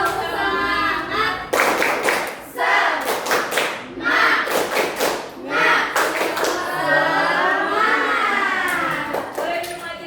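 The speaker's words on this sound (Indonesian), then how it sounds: "Tepuk semangat." A primary school class performs the rhythmic "tepuk semangat" clapping routine, bursts of patterned hand claps alternating with chanted children's voices, loud and close in a classroom setting.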